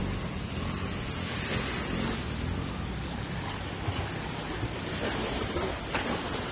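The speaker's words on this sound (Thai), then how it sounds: "ผลกระทบของคลื่นของเรือ" A boat's wake rolls in as waves washing ashore, a continuous noisy surf rush with wind buffeting the microphone and a few splashes breaking through.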